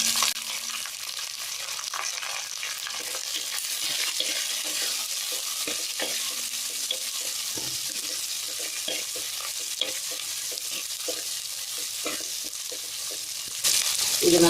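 Onion and garlic sauté in hot oil in a pan, a continuous close hiss and sizzle with soft, repeated stirring scrapes throughout.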